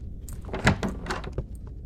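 A locked room door tried in the video game Dead Signal gives a short pair of muffled thunks and rattles, close and fairly loud, with no other sound.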